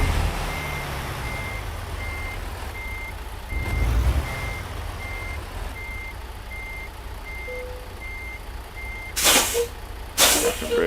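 Reversing beeps from a truck in American Truck Simulator, evenly spaced over a low engine rumble, followed by two loud sharp air brake hisses near the end.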